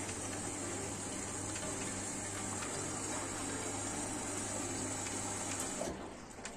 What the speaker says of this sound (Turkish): Şimdi makinemiz suyu alıyor bakın.